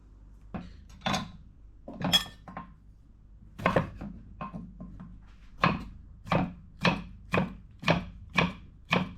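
Close knife strokes chop cilantro and jalapeno pepper on a wooden board, first a few scattered cuts, then a quick even run of about eight crisp thuds.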